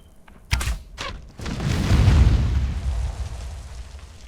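Explosive jar detonating against a reinforced stone wall in a survival video game: a couple of sharp pops followed by a loud, rumbling boom that swells and slowly fades, with no talk.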